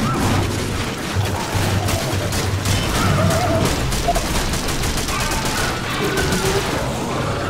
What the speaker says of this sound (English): I start shooting the crap out of him